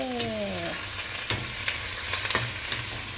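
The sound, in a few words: sautéing cabbage and bean sprouts in pan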